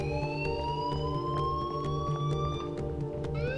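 A school alarm blares in the Life Is Strange video game, a loud, steady wailing tone with rising pitch sweeps that sounds continuously throughout.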